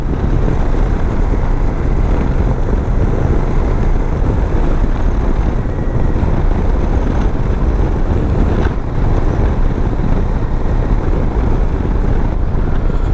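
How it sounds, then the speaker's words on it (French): Continuous heavy wind roar buffets the microphone while riding a Royal Enfield Super Meteor 650 motorcycle, a steady rushing noise with no let-up and no voices. "Ah là j'ai un petit peu de vent là"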